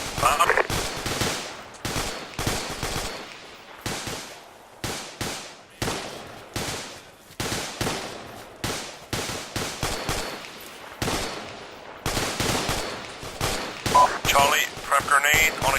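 Machine gun and rifle fire in the ArmA 2 military simulation game during a company training exercise: repeated sharp bursts and volleys, some close and loud, others quicker rattles, continuing without pause.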